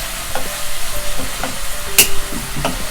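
Pork belly stir-fried with shrimp paste and basil in a pan, with a spatula scraping and stirring in repeated strokes over a steady close sizzle and occasional sharp clanks.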